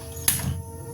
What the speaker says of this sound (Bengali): গ্যাসটা জ্বালিয়ে দেবো